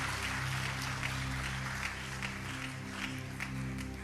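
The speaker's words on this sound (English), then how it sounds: "Let's give Her Excellency a round of applause, please." Steady applause from a crowd at a national honours investiture ceremony, a continuous patter of clapping over a low background hum, with no one speaking.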